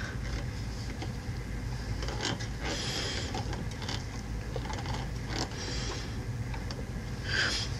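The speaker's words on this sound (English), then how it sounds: "I'm gonna turn my hand wheel until the needle has come out of the fabric" The hand wheel of a sewing machine is turned slowly, giving faint creaking and soft mechanical clicks from the needle and take-up mechanism against a quiet room.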